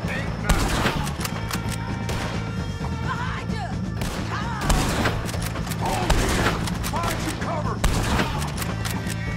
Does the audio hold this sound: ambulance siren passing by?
no